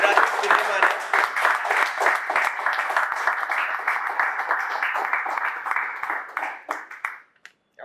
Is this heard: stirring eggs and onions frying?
no